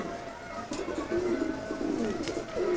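A flock of giribaz and racing pigeons coos in a steady, overlapping murmur, with a few louder rolling coos rising near the middle and end and faint chirps mixed in.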